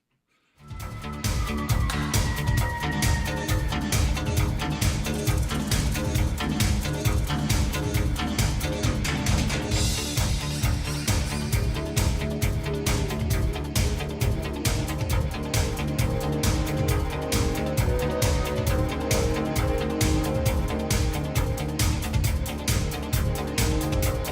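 A rock song plays loud and continuous after a brief silent start, with a steady driving beat, full band and synthesizer textures throughout.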